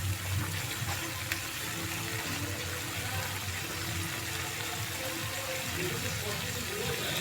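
Watery liquid from ground poppy seed paste pours and sizzles into a hot pan of spices being sautéed for a pointed gourd korma, a steady broadband hiss with faint background voice.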